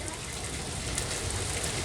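Heavy rain at a family beach cove in Finike, Antalya, a dense, steady hiss of downpour pattering on nearby surfaces, loud and continuous throughout.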